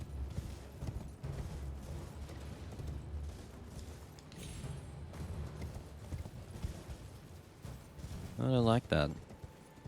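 Horse hooves clip-clop at a gallop in Elden Ring, a rhythmic pounding gait under game effects and someone talking, closing with a brief rising mechanical whine.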